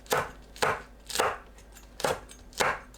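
Knife slicing onion into 0.5 cm strips on a cutting board, five crisp evenly spaced chops heard up close with no talking, while preparing doenjang kalguksu.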